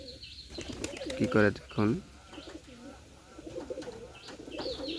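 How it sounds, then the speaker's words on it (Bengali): Bombay pigeons cooing inside a loft, rolling repeated coos near and loud, overlapping with someone talking and scattered chirps from other pigeons. "বোম্বাই কবুতরটাও চলে এসে ডাকাডাকি শুরু করে দিছে"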